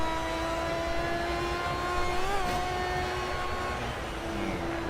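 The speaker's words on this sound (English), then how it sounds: "This car sounds ridiculous" In a racing video game, a Mazda MX-5 Miata engine drones at a steady, high-pitched whine, with a brief surge in revs midway, heard alone at moderate volume.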